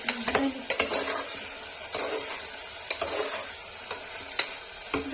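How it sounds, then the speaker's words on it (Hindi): Kashmiri peas and potato curry being roasted and stirred in a pan, with a steady sizzle and repeated scraping strokes of a spoon against the metal, close and without speech. "इसको भून लेंगे अच्छे से।"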